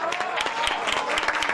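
A crowd applauds as Raúl Torrealba closes 25 years as mayor of Vitacura in 2021, a dense run of sharp hand claps, steady and fairly loud, with faint voices underneath.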